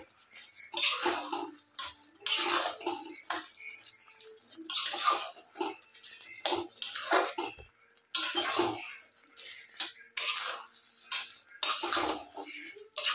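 Spoon scraping and stirring fried spices into a thick, oil-free sweet green mango pickle in a metal pot, with repeated rhythmic scrapes and clinks up close, loud and steady with no talking.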